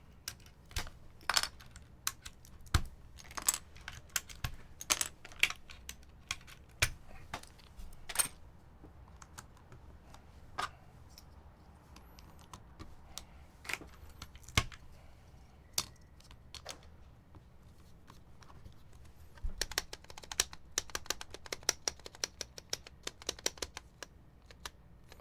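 Keyboard being typed on after a couple of keycaps are swapped in for testing, with no dummy bottoms fitted yet: a steady stream of sharp, close clicks in irregular bursts, quieter in the middle and thickening into denser typing near the end.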